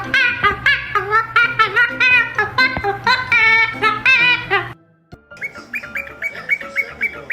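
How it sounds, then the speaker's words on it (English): A pet parrot chirps and calls in a rapid series of loud, close, whistling notes, pauses briefly, then resumes with a quicker run of repeated higher tweets, with no talking. "This parrot is in its own world."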